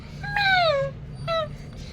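A human voice mimics a cat with two meows, a longer drawn-out one and then a short one, close and moderately loud over a low background hum.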